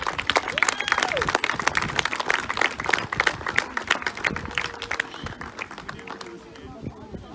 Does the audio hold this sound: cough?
no